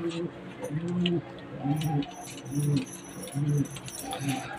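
A pet pigeon coos close by in a repeated rhythmic pattern, soft throaty bursts coming every second or so, with light background noise and faint ticks in between.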